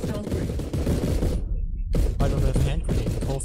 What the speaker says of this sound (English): This is the most relaxing firefight I've ever had